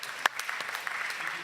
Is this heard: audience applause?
yes